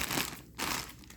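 A plastic bag from a toy solar kit crinkles and crunches as scissors cut it open, in two short bursts split by a brief pause, close and fairly quiet.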